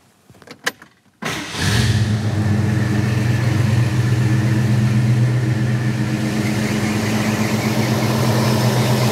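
A few clicks, then a big-block 390 V8 in a 1966 Ford Fairlane GTA convertible cranks and fires up, settling into a loud, steady, rumbling idle that continues evenly.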